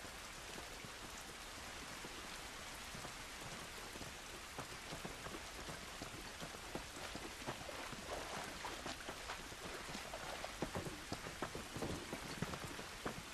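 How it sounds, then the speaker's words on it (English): Steady rain pours outdoors in the video game The Last of Us, a dense continuous hiss with scattered sharper drops hitting surfaces, fairly loud and alone with no talk over it. "This rain ain't gonna do us any good."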